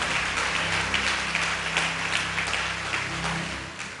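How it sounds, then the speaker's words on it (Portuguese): A church congregation applauds at a Brazilian worship service, a dense sustained clapping from many hands that fills the room at a steady level, with faint voices mixed in. "Vamos aplaudir a Deus pela vida desse profeta."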